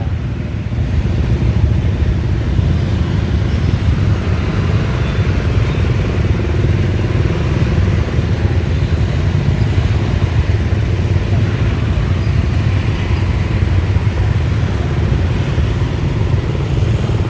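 Motorbike taxi riding through traffic in Vietnam: a steady, loud engine drone and road rumble with wind noise continue throughout, with no clear talk over it.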